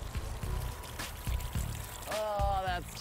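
Water pours over an open, dirty MacBook Pro laptop in a steady splashing stream, with a brief rising tonal whine near the end.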